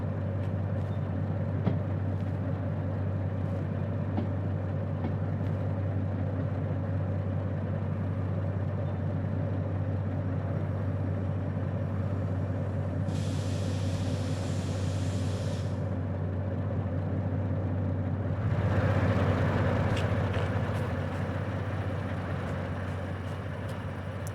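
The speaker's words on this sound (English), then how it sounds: "This is the DM3 Diesel Mechanical." A DM3 diesel-mechanical locomotive in a train video game, heard from inside the cab: a steady low engine drone with a constant hum throughout, and a brief hiss partway through followed by a louder broadband burst near the end.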